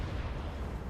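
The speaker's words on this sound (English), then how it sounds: "Let's see if I can fire a broadside at least at him." Cannon broadside from a sailing warship in the naval combat game Naval Action, a dense continuous rumble of heavy booms with no distinct separate shots, sustained and steady throughout.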